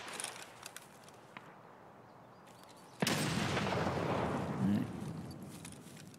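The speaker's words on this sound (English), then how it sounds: "I'm gonna throw a nade over this wall here" A grenade lobbed over a wall goes off in a video game: quiet scattered footsteps and clicks, then a sudden loud blast that rumbles and sustains for several seconds before slowly fading.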